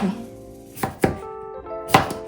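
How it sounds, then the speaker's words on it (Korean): Knife chopping cucumber into pieces on a cutting board during home cooking of spring vegetable side dishes, three sharp distinct chops spaced about a second apart, close and clear with no talk. "오이는 6썰기로 해가지고 이렇게"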